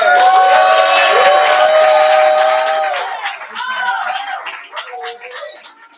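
A crowd at an open mic claps loudly and continuously for several seconds, the applause thinning and tapering off toward the end as a few voices and cheers carry over it.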